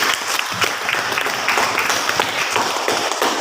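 A physics class claps steadily together, a dense burst of applause lasting a few seconds with no voices over it.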